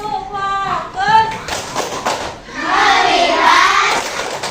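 A school class performs a rhythmic clapping routine, a burst of children's hands slapping together in time after a teacher's spoken cue, with voices chanting along.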